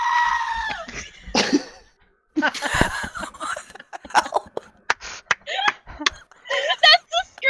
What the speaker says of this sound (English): That's the screaming goat video.